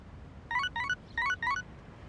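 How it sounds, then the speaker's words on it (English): In Persona 3 Reload, an early-morning phone alert plays as four quick, faint chiming trills in two pairs, each a short bright melodic figure, over a quiet low background. "Early morning phone call."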